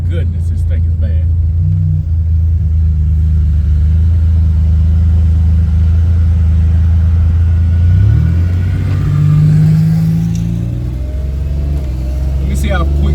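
A Buick Grand National pulls hard under acceleration, a loud, close, steady low engine drone swelling as it climbs, with a brief shift around the middle, while someone talks over it.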